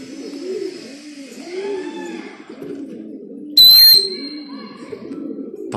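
Mutawar (flying) pigeons coo repeatedly in soft, rolling calls close by, interrupted briefly by a sharp high whistle-like sound.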